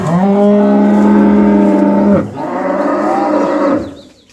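A dairy cow on a farm lets out a loud, close moo, a long sustained call followed by a second shorter one that trails off.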